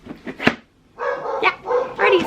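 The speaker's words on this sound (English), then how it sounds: "I'm sorry for my dog barking in the background." A pet dog barks a few times in the background of an indoor room, brief and moderately loud, mixed in with a person talking.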